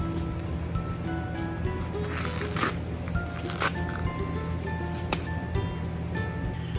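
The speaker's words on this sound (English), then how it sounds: "And you take straight down the corn, and it should come right off, and you want all the silks in there to come off as well." Fresh corn husks and silks are pulled off an ear by hand, giving crisp rustling tears and papery crackles in bursts, close and fairly quiet over a faint steady background hum.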